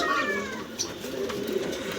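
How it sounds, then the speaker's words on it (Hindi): A Sirazi pigeon coos softly nearby in a village aviary, giving a low, wavering call under background chatter and other bird sounds. "कबूतर। ये है सिराजी।"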